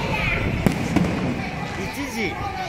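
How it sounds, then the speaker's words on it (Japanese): Fireworks still going off during the New Year countdown in Phuket, a few distant thumps and crackles under a steady crowd murmur with voices nearby. "まだ花火ちょっと上がってますけど"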